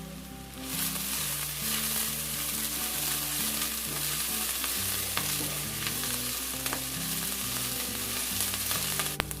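Curry leaves fry in hot oil in a pan for a roasted-coconut Kerala chicken curry, giving a steady, close sizzle that holds for the whole stretch. Faint stirring and crackling run underneath, and nobody speaks.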